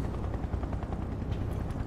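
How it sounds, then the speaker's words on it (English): A helicopter carrying a big rotary cannon in the video game Final Fantasy VII Remake gives a steady, close, throbbing rotor roar that holds for about two seconds. "That's a helicopter with a big rotary cannon."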